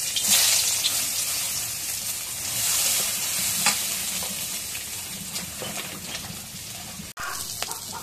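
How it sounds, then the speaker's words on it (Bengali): Onions dropped into hot oil in a home kitchen pan, giving a loud, steady, close sizzle with hiss and spatter throughout, a few stirring scrapes, and a brief sharp knock near the end. "এখন তেলের মধ্যে পেঁয়াজ দিই।"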